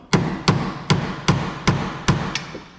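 Seven sharp metallic hammer blows on a car's steering shaft land at a steady, slightly slowing pace, each ringing briefly before the next strike.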